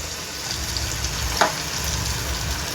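Chicken 65 pieces deep-frying in oil, a steady bubbling sizzle at close range with one brief sharper crackle partway through.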